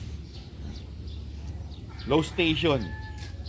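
Small gamecock chickens make a brief rising squawk and clucking burst at close range over a low steady background hum, with a short stretch of talk nearby.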